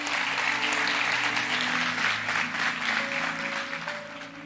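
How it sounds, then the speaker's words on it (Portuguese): A church congregation applauds the Lord after a prayer, dense sustained clapping from a crowd indoors, fading slightly toward the end, with a sustained musical tone beneath it. "Dê o melhor aplauso que você pode dar ao Senhor."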